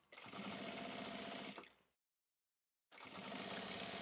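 An industrial sewing machine stitches Santaflex felt in two close, loud bursts of fast, even whirring separated by a brief silence, with no talk.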